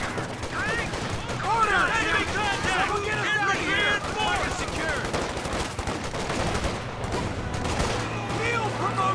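Machine gun fire in Company of Heroes 2, including an MG34 in a flanking fight: rattling gunfire and battle noise run under near-constant excited commentary.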